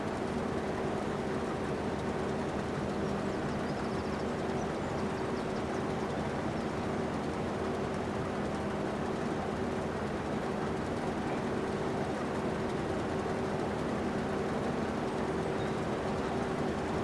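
A train running through a ravine in Farming Simulator 25, a steady low rumble with a faint hum that carries on unchanged for the whole stretch and has no voices over it.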